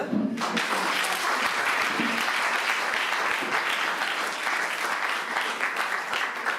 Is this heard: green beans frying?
no